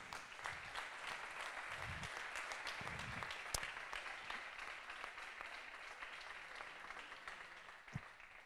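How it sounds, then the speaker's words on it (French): Applause from a conference audience rises as thanks are given to the organising team, a fairly faint, steady patter of many hands with a few low thumps heard at a distance. "Si on peut les applaudir"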